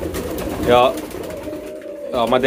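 Pet pigeons coo close by at night in a loft after being fed, in soft throaty bursts repeated a few times, with someone speaking over them.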